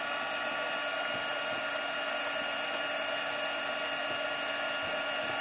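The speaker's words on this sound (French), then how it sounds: "Un sèche-cheveux. Un sèche-papier." A heat gun blows hot air to dry paper for embossing, giving a loud, steady whirring roar close up that continues unbroken for several seconds with no voices.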